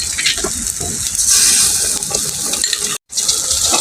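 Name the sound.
tamarind water poured over taro leaf greens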